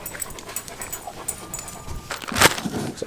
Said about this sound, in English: Say hi to the shop dog.